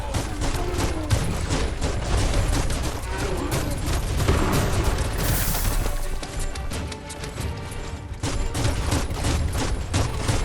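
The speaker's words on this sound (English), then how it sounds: "Bullets everywhere." Dense bursts of gunfire rattle through a Biomutant fight, rapid shots and impacts layered over a busy, loud backdrop almost without a break.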